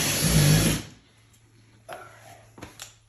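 A power drill fitted with a 1/2 inch bit whirs loudly into a wall for under a second during a kitchen base cabinet install, followed by quiet handling knocks and clicks.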